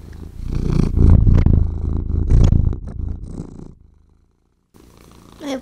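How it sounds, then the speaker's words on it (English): A kitten purrs loud and close in a steady rumbling rhythm, then stops briefly before a faint squeak. "Here is purring."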